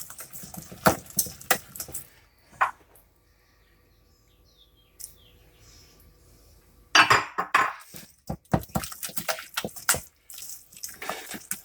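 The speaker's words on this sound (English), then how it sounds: "Keep stirring." A utensil stirs thick pastry cream in a pot, making close, irregular scraping and clinking bursts. A few quiet seconds fall in the middle before the stirring resumes more busily.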